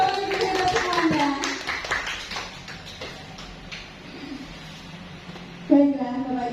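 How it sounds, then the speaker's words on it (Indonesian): Teachers gathered at a school workshop session in Cilacap clap their hands in a short, loose burst that fades out, with voices talking and calling out at the start and again near the end. "Tepuk tangan untuk Bapak Ibu ya semuanya"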